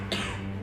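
One sharp cough bursts out, then trails off, with quiet background hum.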